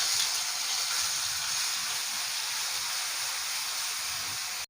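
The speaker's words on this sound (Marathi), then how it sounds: "याच तेलात आपण मिरची, लसूण आणि जिरे ह्याची जी आपण पेस्ट बनवली होती ती पेस्ट आपण घालणार आहोत" A paste of chili, garlic and cumin goes into hot oil for a Marathi buttermilk okra dish, giving a continuous, even sizzling hiss that stays loud until it cuts off abruptly.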